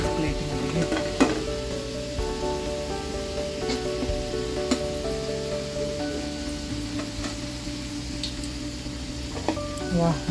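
Champakali sweets deep-fry in oil with a steady, dense sizzle that holds throughout, broken by occasional faint clinks of a utensil.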